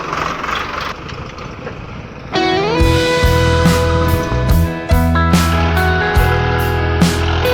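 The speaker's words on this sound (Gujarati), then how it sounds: "ઘણા હાથ આ ટ્રેક્ટર આ ગાળમાં હાલે છે" Heavy tractor engines idle and rumble at a road construction site, a steady loud low drone with shifting tones and occasional revving.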